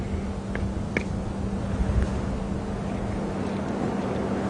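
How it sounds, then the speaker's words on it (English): Steady wind rushing through trees high overhead in a game reserve drainage line on an early safari drive, a continuous broad roar with faint scattered bird calls and no talk. "Oh, and you can hear the wind that is above us."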